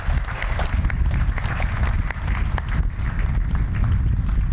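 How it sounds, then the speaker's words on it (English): Crowd at a July 5 parade applauding and clapping steadily, loud and dense throughout, with some voices mixed in the noise. "So let's give them a big round of applause, please."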